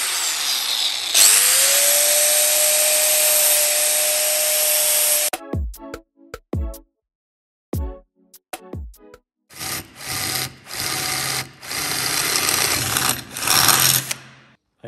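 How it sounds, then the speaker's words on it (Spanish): An angle grinder sharpens a 10 mm drill bit, giving a loud, continuous high grinding whine for about five seconds, then a few sharp taps and pauses, then several more rough grinding bursts near the end. "Esto hay que saber afilarla con la radial."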